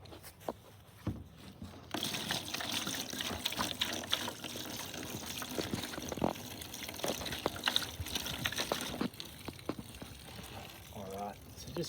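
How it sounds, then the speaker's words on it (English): Water rinsing and flushing sand out of a deBrito surfski bailer while parts are cleaned, a steady close trickling and splashing wash that runs continuously, with a quiet stretch at the start and a voice talking over it. "I'll just wash that area out without losing the screws"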